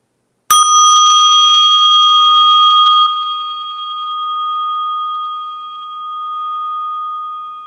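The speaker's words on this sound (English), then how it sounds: "I'm going to take you there by placing your attention on the sound of this Tibetan bell." A Tibetan bell is struck once and rings out loud and clear, its bright tone sustaining for a few seconds before fading into a long, softly pulsing hum, alone without voices.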